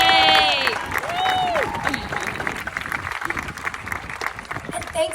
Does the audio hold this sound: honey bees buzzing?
no